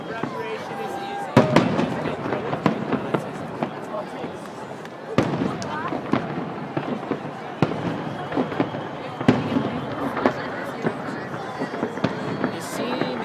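Fireworks at an outdoor display bang in sharp, irregular bursts, several distinct loud explosions among crackling and crowd noise, with people talking throughout.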